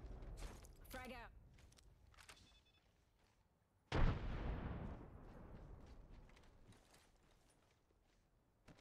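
In Apex Legends, a frag grenade detonates with a sudden heavy blast that rolls off into a long fading rumble, preceded by clicking gear sounds and a short voice.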